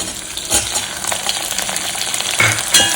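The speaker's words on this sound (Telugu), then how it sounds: "కొంచెం దోరగా వేగనివ్వాలండి" Onions, green chillies, curry leaves and chopped tomato fry in a pan with a loud, close, continuous sizzle, broken by a few stirring scrapes.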